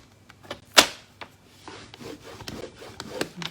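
Paper being scored on a paper trimmer, a sharp scraping stroke followed by short, quiet rubbing and scratching sounds up close.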